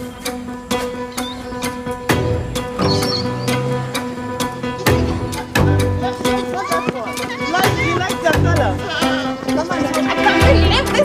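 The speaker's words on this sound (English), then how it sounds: "You cannot hold that goat alone, so you come and help Ronnie." A goat on a farm bleats repeatedly among people talking and handling it, with several close, wavering bleats scattered through the scene along with clatter and movement.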